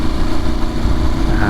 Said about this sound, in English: Myself a little blip.